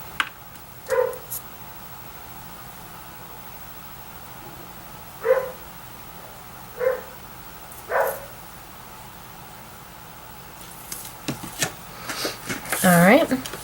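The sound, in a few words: dog barking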